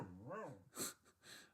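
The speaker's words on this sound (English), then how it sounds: "And my dog is giving his input as well." A dog whimpers faintly indoors, a rising and falling whine followed by a couple of short breathy yips, quiet and close.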